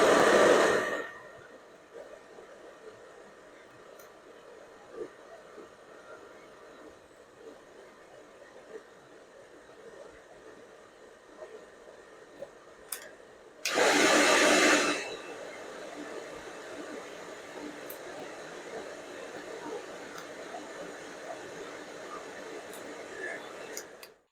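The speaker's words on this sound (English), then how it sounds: "now I'm going to turn on the hairdryer at different fan settings and temperature settings" A hair dryer runs at different fan and temperature settings, a steady airy hiss throughout, with a louder burst partway through before settling back to a constant whoosh.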